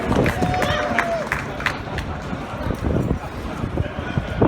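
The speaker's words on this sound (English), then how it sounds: "Give him a nice round of applause." Crowd at a fire department prevention event with a ladder truck crew applauds in scattered, uneven claps outdoors, mixed with murmuring voices and background bustle.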